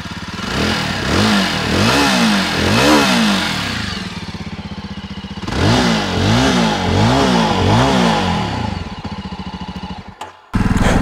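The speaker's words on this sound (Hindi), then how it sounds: "अब एक काम करता हूँ आपको इसका एग्जॉस्ट नोट सुनाता हूँ" A 2022 Jawa Bobber 42 motorcycle revs loudly and up close in repeated surges, its exhaust rising and falling over a steady idle, then a pause and a final sharp blip.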